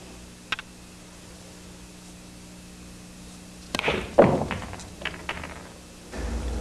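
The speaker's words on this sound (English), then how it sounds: "Going to try to make six balls in six different pockets with one shot." A pool trick shot on a 4x8 table, the cue ball striking a rack of six balls: a quiet tap, then a sudden burst of clacking ball collisions and scattered knocks as balls roll away, followed by a dull thump.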